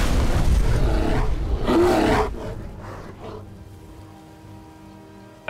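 A cave bear in Skyrim lets out a loud, rough roar that fades away over a few seconds into quiet game ambience.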